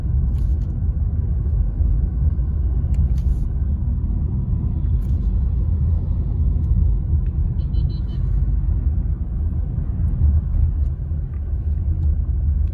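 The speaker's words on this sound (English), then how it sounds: "you guys can clearly hear the road sound" Inside a Honda City 2020 sedan on a night drive, a steady, loud low rumble of road and tyre noise fills the cabin without a break.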